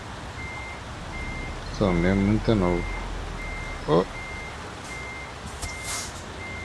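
A truck's reversing alarm beeps in a steady, evenly spaced rhythm while parking in Euro Truck Simulator 2, moderately loud over engine hum, with someone briefly talking partway through.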